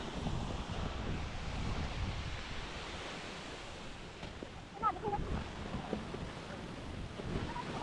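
Waterfall at Bomburu Ella in Nuwara Eliya, Sri Lanka, a steady broadband roar of falling water heard from some distance, continuous and fairly even with faint wind buffeting and a few brief higher sounds.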